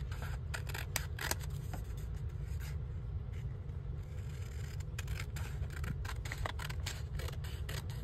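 The white edge of a paper page is trimmed off with a run of faint, quick, crisp snips and light scraping, heard alone in a quiet room.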